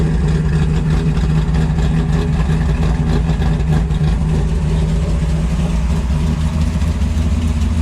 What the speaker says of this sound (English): You definitely hear that lifter, the solid lifter cam